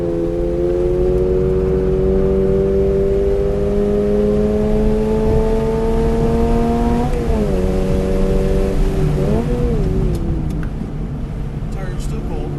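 Race car engine lapping a circuit counterclockwise, a steady climbing drone rising through the gears, then dipping and shifting as it brakes and turns, loud and close throughout.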